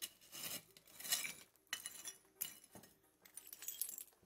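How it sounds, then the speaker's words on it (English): Pieces of broken glass clink and scrape as they are picked up and set aside while a 1960s bathroom is torn out under the bathtub, giving several light, sharp clatters at close range. "Let me put this glass on the side so no one gets cut."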